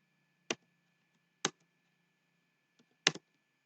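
Three single key presses sound on a computer keyboard in a quiet room, spaced about a second apart. Each is a sharp, close click with a faint hum in the background.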